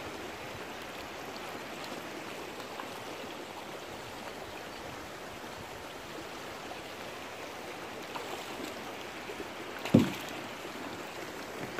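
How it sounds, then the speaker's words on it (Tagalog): A river flowing outdoors near mountains, a steady broadband rushing wash that holds at an even level throughout, with one brief knock near the end. "Ito ang river namin."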